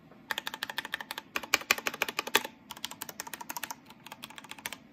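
A Ducky One 2 Mini mechanical keyboard with Cherry MX Red switches is typed on in quick, clacky bursts, close and fairly quiet, with short pauses between runs of keystrokes.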